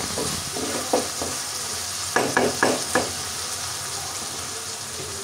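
Spice masala is sautéed with sour yogurt in a pan, a steady sizzle under several distinct spatula scrapes clustered in the first half, then an even fry.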